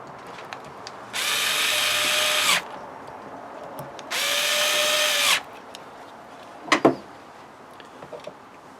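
A repaired oscillating sander, rebuilt after being salvaged from the skip, runs in two separate bursts of about a second each, a loud, steady high-pitched whine with a clear start and stop, followed by a brief clunk of handling.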